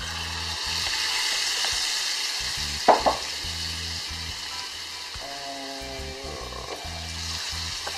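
Sauce with fresh thyme, stock and wine stirred in a hot pan, a steady close sizzle and bubbling with a few sharp scraping clinks of the spoon against the pan.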